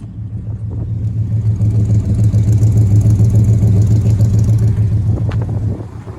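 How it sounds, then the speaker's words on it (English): The V8 exhaust of a 1970 Chevrolet Chevelle Malibu idles with a deep, lumpy burble, swelling slightly and holding steady before settling at the end; no talking. "Let's listen to the exhaust."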